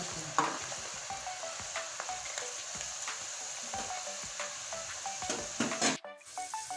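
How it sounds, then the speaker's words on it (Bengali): Steady, crackling sizzle of chana dal frying in hot oil in a wok, close and continuous, with occasional stirring clinks. "এবার আমি ছোলার ডালগুলো তেলের ভিতরে ছেড়ে দিয়েছি আর সুন্দর করে ভেজে নেব"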